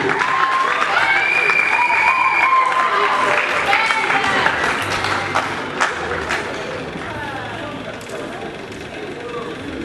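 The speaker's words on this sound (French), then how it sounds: "on l'applaudit parce qu'elle reçoit son diplôme" Audience applause and crowd noise at a 2022 Exetat graduation ceremony as a student receives her diploma, clapping mixed with voices, calls and tonal cheering, loud at first and gradually fading.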